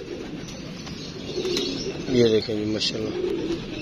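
Pigeons coo softly in a short burst amid a background murmur, with someone talking over them.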